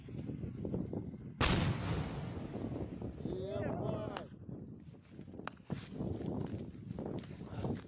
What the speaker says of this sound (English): this does appear to be a controlled explosion instead